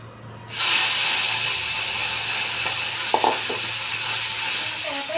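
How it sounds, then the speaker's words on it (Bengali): Small puti fish drop into hot oil and set off a sudden loud sizzle that holds steady and close, with a few faint utensil taps partway through. "এভাবে আমি সবগুলো মাছ ভেজে নেব।"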